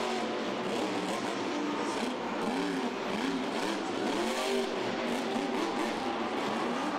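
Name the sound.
Grave Digger monster truck engine roaring at Monster Jam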